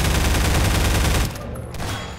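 Dense, loud volley of automatic gunfire from Garry's Mod sounds for just over a second, then cuts off abruptly and leaves a quieter rumbling tail.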